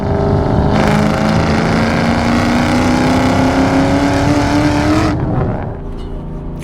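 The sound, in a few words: 2004 Ford Mustang Mach 1 4.6 engine running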